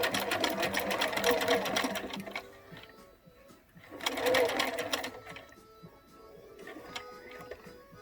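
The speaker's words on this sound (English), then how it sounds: "I'm going to sew down and get right onto my elastic" Sewing machine stitching elastic onto face mask fabric, running in rapid bursts with brief pauses between, close and fairly loud with a person talking over parts of it.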